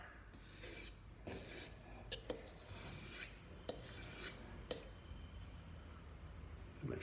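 A knife blade drawn repeatedly across a sharpener in rasping strokes of about half a second each, close and fairly quiet, with a few sharp metallic clinks between strokes and no talking.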